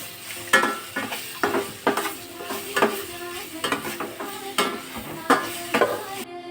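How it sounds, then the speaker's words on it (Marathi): Fried vegetables stirred in a pan with pav bhaji masala for home-style pav bhaji, with repeated close scraping strokes of a spoon in a steady rhythm over a soft sizzle, and no talking. "आता याच्यामध्ये आपण पावभाजी मसाला घालूया त्याला आपण छान असं मिक्स करून घेऊयात"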